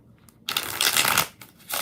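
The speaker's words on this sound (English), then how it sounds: "Two more shuffles." A tarot deck is shuffled close up in one quick, bright riffle that trails off, followed by the start of another.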